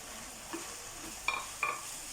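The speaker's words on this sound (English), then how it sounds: "Give this a stir. Make sure everything is coated nicely." Chaat masala, chili powder, turmeric, jeera powder and salt are stirred in a cooking pan, giving a few faint, soft scrapes and light taps over a quiet background.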